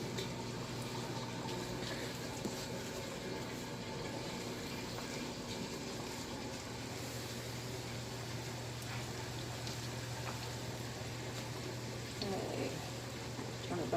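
Breaded chicken strips frying in hot oil give a steady, dense crackling sizzle throughout, with a low constant hum underneath and a brief louder bubbling surge near the end.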